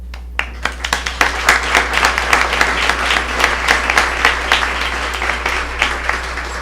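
An audience at a Plano school board meeting applauds students, a steady wash of many hands clapping, fairly loud and sustained, with a low hum underneath.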